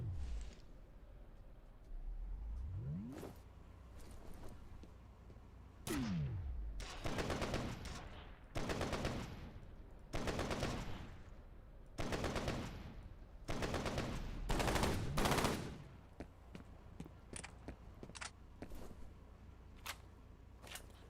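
Gunfire in the video game F.E.A.R., a string of sharp loud shots and short bursts spaced across the stretch with brief pauses between them, ending in scattered lighter clicks and pops.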